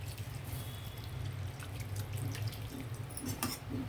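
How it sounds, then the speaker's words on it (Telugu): Water streams steadily into a pan of protein curry with soya chunks on the stove, a continuous close, moderately loud running pour with light splashing and no voices. "వాటర్ వేసేద్దాము, కొంచెం వాటర్ వేద్దామండి."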